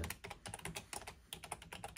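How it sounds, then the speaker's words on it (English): Rapid clicking of keys on a computer keyboard, quick and uneven taps close by and fairly quiet, with no voices. "So Lex is typing in."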